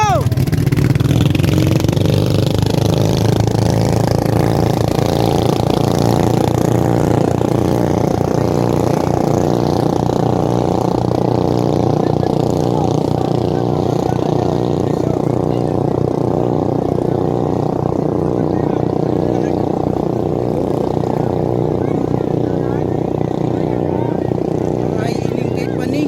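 A motorcycle engine runs as a steady, loud drone with a constant low throb for the whole stretch, with voices faintly mixed in beneath it.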